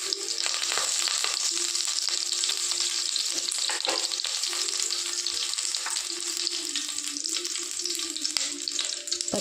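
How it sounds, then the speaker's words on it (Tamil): Curry leaves crackle and spit in hot oil in a pan, a bright, loud, continuous frying sizzle with scattered small pops and an occasional stir, heard alone without speech. "கருவேப்பிலை போட்டுக்கலாம்."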